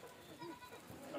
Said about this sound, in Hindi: सोजत के माशाल्लाह काफ़ी अच्छी क्वालिटी के बकरे हैं